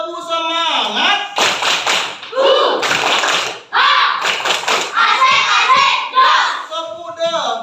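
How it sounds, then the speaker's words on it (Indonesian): A primary school class performs the rhythmic 'tepuk semangat' clapping chant, with bursts of loud unison hand claps alternating with children and a teacher chanting along. "untuk lebih semangat, kita tepuk semangat dulu. Tepuk semangat."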